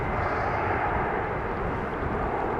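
An airplane taking off from runway 36L at Amsterdam Schiphol Airport, heard as a loud, steady broadband engine roar that holds constant throughout with no voices.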